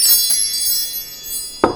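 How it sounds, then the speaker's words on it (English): Wind chimes ring in a high, sustained metallic shimmer with several lingering tones and a fresh strike near the end, fairly loud and alone. "let's call in spirit with some wind chime time."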